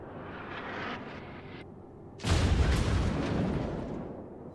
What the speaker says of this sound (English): Incoming Tirpitz shells.